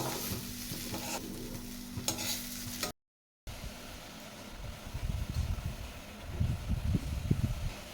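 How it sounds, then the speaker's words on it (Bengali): Yardlong bean mash with a little sugar being stirred in a pan, with a gentle sizzle, a short gap, then louder rhythmic scraping and stirring strokes, close up. "অল্প একটু চিনি দিয়ে মিশিয়ে নিচ্ছি"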